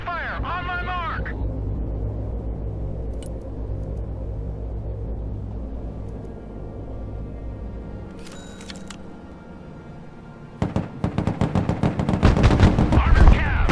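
Gunfire in the war video game Broken Arrow: a low battlefield rumble with a brief radio voice early on, then sudden rapid bursts of loud automatic fire and heavy shots building toward the end.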